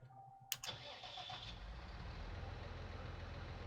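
A Valtra tractor engine in Farming Simulator 19 cranks with a sharp click and short starter whir, then catches and settles into a steady, low diesel idle rumble that continues alone.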